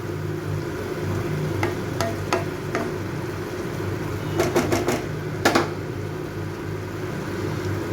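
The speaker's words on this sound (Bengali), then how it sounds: "এটাকে একটু ভালো করে আমি একটু নাড়িয়ে দেব" A spoon stirs water lily stems (shapla) cooking in a pot, giving a few sharp scraping clacks against the pot over a steady low simmering hiss, with clusters of quick taps near the middle.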